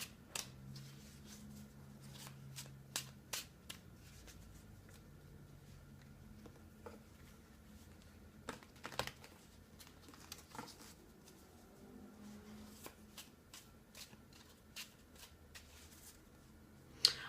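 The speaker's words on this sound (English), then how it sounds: "I'm just going to continue to give the cards a little bit of a shuffle" Soft, quiet patter of tarot cards being shuffled, with light irregular flicks and taps over a low hushed background and no talking.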